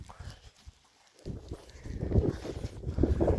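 Hooves clopping at a walking pace, fairly close, with a steady uneven rhythm and some outdoor background noise.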